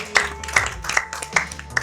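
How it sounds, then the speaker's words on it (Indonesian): A few people clap in sparse, uneven bursts of about five claps during an Indonesian talk show segment, with low background hum and a faint voice underneath. "tepuk tangan dulu dong"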